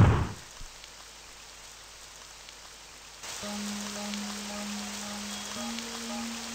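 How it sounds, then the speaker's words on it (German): Steady soft rain patters in the horror video game Forest of Drizzling Rain, a continuous hiss that turns slightly louder partway through as a low sustained tone and faint chiming notes join it. "es sieht so aus, als würde der Regen heute Nachmittag bzw. heute Abend weiterfallen"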